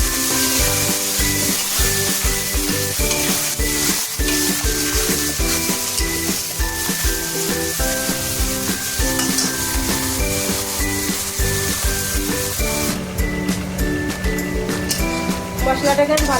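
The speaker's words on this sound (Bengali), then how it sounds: "এবার ফোড়নে দিচ্ছে শুকনো লঙ্কা 4টে, গোটা জিরে, টমেটো" Dried red chilies, whole cumin and tomato sizzle steadily in hot tempering oil, a dense continuous fry with stirring, loud and close throughout, while music plays underneath.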